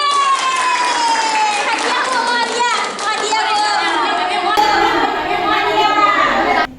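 Sustained clapping from a group in a classroom guidance session fills the whole stretch, mixed with children's voices and chatter, then cuts off abruptly at the end.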